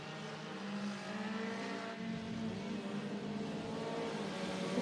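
Race cars charging down the back straightaway at Cottage Grove Speedway in Oregon, a steady, fairly distant engine roar with droning harmonics and slight swells.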